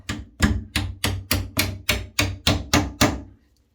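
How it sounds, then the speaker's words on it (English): A hammer taps a greased door hinge pin back down into a squeaky door hinge, nine evenly spaced sharp metallic knocks in a steady rhythm, close and loud, then silence. "then you can just take a hammer again and tap it straight down in"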